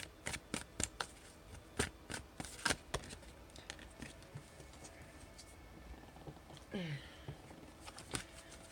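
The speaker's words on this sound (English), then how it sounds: "I do want to pull one more guidance card for the feminine and the masculine." Cards for a tarot reading being shuffled and handled, a run of soft irregular flicks and riffles, fairly close and quiet, with faint background sounds.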